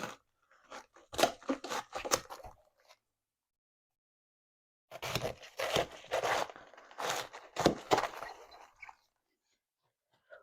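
Knife slicing vegetable halves on a cutting surface, close crisp crunching cuts in two quick bursts of several strokes each, separated by a pause of silence.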